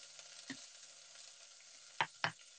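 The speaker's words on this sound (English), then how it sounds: "We're just going to fry that for two minutes." Steak frying in a pan, a steady soft sizzle with a few sharper spits and pops of fat, close and alone without speech.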